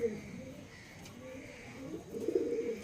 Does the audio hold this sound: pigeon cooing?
yes